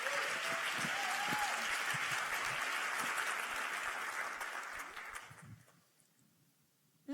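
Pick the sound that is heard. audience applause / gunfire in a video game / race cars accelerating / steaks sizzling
audience applause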